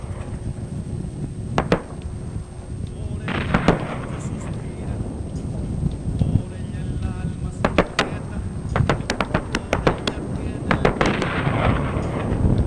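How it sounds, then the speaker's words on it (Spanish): Mounted .50 calibre machine guns and rockets fired from M113 armoured vehicles during a joint military exercise, heard as scattered sharp reports and bursts of gunfire across a rumbling, noisy outdoor background. "Las unidades montadas en los vehículos M113 proceden a disparar sus ametralladoras calibre .50 y a disparar esos cohetes"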